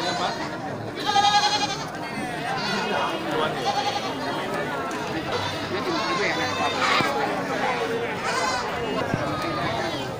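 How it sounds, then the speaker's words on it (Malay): Goats bleat repeatedly amid the busy hubbub of Grogol animal market, with nearby voices chattering and haggling over male fattening goats throughout. "Ya ini kambing untuk kategori kambing penggemukan"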